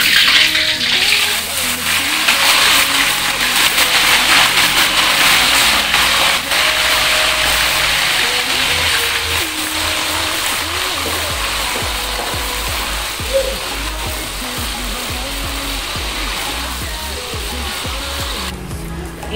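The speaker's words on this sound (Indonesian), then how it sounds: "saya mau goreng kacang sekaligus dengan bawang-bawangnya" Continuous loud sizzling and crackling of peanuts frying with shallots and garlic in hot oil, close up, with a low mechanical hum underneath.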